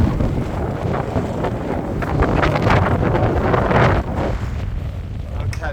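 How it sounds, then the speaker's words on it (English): Steady wind rushing and buffeting over the microphone of a cyclist riding into a headwind on an open road, loud and continuous with gusty swells, no talking. "It's felt like a headwind the whole way."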